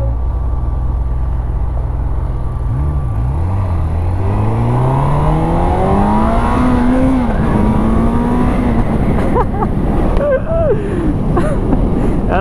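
Engine of a 2021 Honda CB1000 motorcycle revving hard in traffic, pitch climbing and falling through repeated throttle blips, loud and close, with a voice speaking over it.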